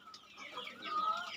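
Rooftop backyard chickens cluck in a short, close burst of excited, rising calls, with faint voices nearby.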